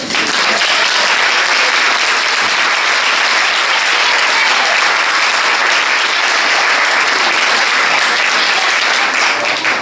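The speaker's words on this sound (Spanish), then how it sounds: "Vamos a darles un fuerte aplauso a ellos y a los 4 homenajeados." Loud, sustained applause from an audience at a Fallas honours ceremony, a thick continuous wall of clapping from many people that stays at full strength for about ten seconds.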